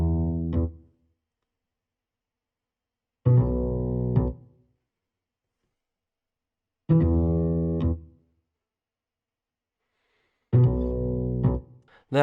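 An upright bass run through a Guitar Rig bass amp preset with EQ plays four short repeating plucked phrases, each a couple of warm, slightly gritty low notes, separated by gaps of silence; no voices.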